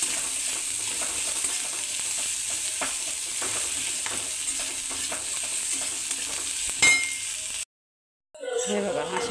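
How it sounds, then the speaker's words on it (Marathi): Onion frying in a pan gives a steady soft sizzle, with a spoon scraping and stirring through it at intervals and a brief clink before a short silence, then the frying resumes. "हे बघा अशा प्रकारे हा कांदा भाजून झालेला आहे।"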